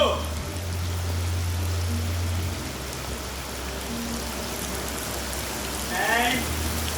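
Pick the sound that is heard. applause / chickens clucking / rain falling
rain falling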